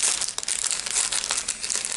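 Thin washi paper cutouts are handled up close, giving continuous loud crinkling and crumpling rustles with no pauses.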